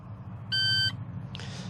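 An electronic weighing scale gives a single short, bright beep while a tub of harvested main crop potatoes is weighed at an allotment, followed by a faint rustle.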